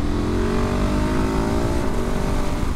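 A Gas Gas ES700 motorcycle engine running hard on the road, a loud continuous close drone with a slowly climbing pitch and a brief shift near the end, with no talking.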